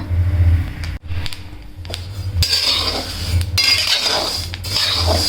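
Sesame seeds dry-roasting in a pan for til laddu, with a close, steady metallic scraping of the spoon against the pan, rattling clinks and soft shuffling of seeds over a low background hum.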